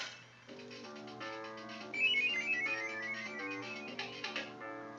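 A telephone rings in Sonic 3 & Knuckles, a bright synthesized electronic ringtone that keeps going over a steady tonal game music bed.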